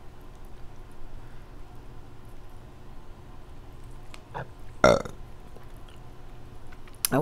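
A woman lets out one loud, close burp during a king and snow crab mukbang, a short raspy burst near the end after quiet eating noises.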